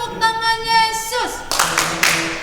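Children at a Sunday school worship service sing in high voices, then break into a few sharp, separate claps of the Jesus clap rhythm toward the end.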